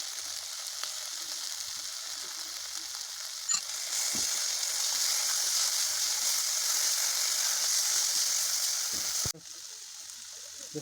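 Spice paste with ginger paste fries in hot oil as a steady hiss that swells louder partway through, with occasional spoon scrapes from stirring before the sizzle drops back.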